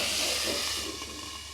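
Prawns and stalks frying in a covered pan, a steady loud hiss and sizzle that eases slightly toward the end, with no talking.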